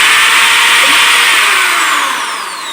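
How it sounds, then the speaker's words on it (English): Loud, steady whine of a power drill fitted with a 1/8 inch bit boring into plastic, held close and alone, easing slightly toward the end. "So I'm going to take a 1/8 drill bit."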